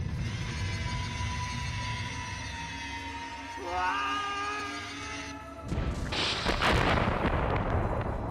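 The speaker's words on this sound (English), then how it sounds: "Deactivate the magical device. Can't you see it's going to explode?" A magical device blows up in the Sphinx and the Cursed Mummy video game: a rising tonal hum swells and then bursts into a loud, sustained crashing explosion with rumbling debris.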